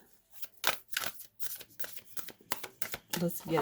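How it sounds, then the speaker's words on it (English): A tight tarot deck being shuffled in repeated quick riffles and slides, close up and crisp, with a voice speaking at times over the shuffling. "I'm going to shuffle these a little bit different because this is a pretty tight deck."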